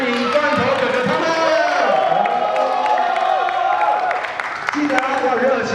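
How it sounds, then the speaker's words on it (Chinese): Crowd noise fills the space with cheering and scattered clapping as performers are welcomed at a school event, with a voice talking over the steady, loud roar. "让我们掌声欢迎罐头哥哥他们！"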